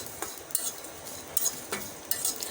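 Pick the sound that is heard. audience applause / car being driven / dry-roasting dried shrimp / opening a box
dry-roasting dried shrimp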